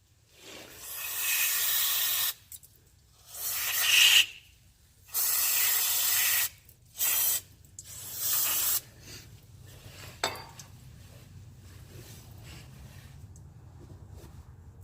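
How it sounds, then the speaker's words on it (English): Brake parts cleaner hisses from an aerosol can onto Jeep JK axle bolts in several short, close bursts of uneven length, followed by quieter handling noises. "I use brake parts cleaner to clean my bolts because it breaks up the oil and it dries very fast."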